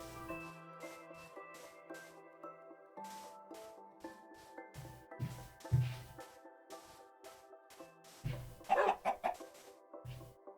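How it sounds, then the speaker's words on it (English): Chickens cluck and squawk in short, irregular bursts as a stream alert sound, fairly quiet with a few louder clucks, over a faint steady tonal background. "Chickens. Chickens. You got the chickens one."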